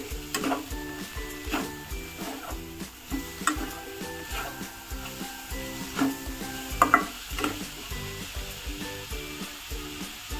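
Ukad dough for modak, made from rice with jaggery and a little ghee, stirred and mixed in a pan: repeated rhythmic scraping strokes with a soft sizzle underneath, steady and close, with no talking.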